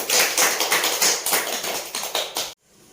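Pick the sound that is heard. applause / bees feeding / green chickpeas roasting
applause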